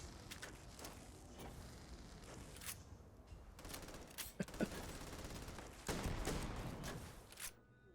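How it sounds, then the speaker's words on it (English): Mines dropped from a jump pack burst repeatedly among enemies in the Starfield video game, a run of loud, close explosions and gunfire-like blasts over roughly eight seconds with a dense battle din throughout. "We're just gonna drop mines on these guys."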